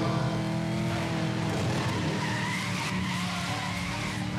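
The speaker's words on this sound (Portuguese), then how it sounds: "Anda drift, man." A Dodge Challenger drifting in Need for Speed Most Wanted 2012, its engine roaring and tires squealing in a long continuous skid, loud and close, no voices.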